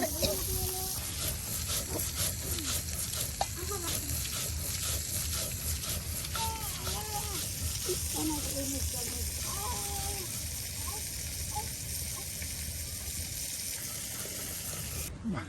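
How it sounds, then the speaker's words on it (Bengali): Rohu fish frying in oil in a pan, a steady low hiss and sizzle running throughout beneath a voice speaking. "আর এদিকে কিন্তু আপনার এই যে রুই মাছগুলো একদম সুন্দর করে ভেজে নেওয়া হচ্ছে"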